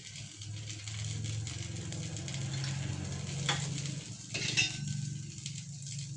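A dosa frying in oil on a pan, a steady close sizzle with a low bubbling hum and a couple of brief scraping or stirring accents partway through.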